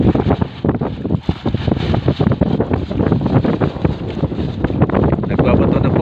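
Strong wind buffets the microphone aboard a small fishing boat at sea off the Philippine coast, producing loud, gusty, uneven roaring and rumbling that persists throughout.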